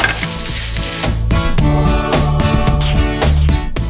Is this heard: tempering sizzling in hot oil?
yes